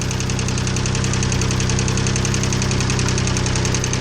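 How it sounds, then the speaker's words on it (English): A turbocharged 1991 Mitsubishi 3000GT VR-4 engine runs steadily at idle after its cylinder head was reassembled, with a rapid, even knocking pulse and a faint high turbo whine over the top, loud and close, with no talking. "I can hear that back turbo"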